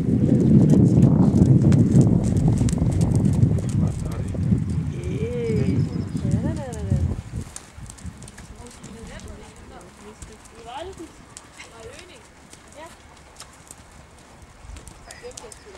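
Horse hooves clip-clop on the footing of a dressage arena during a CNC80 D-class competition, a steady rhythmic patter that continues after an announcer's voice fades out partway through.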